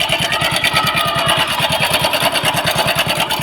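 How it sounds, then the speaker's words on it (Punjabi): A vehicle engine in a Kapurthala workshop makes excessive, abnormal noise, running close and loud with a fast, steady knocking pulse over a rough mechanical roar, with no talking. "ਬਹੁਤ ਜ਼ਿਆਦਾ ਆਵਾਜ਼ ਆ ਰਹੀ ਹੈ ਬਾਈ ਇੱਥੋਂ ਇੰਜਨ ਤੋਂ"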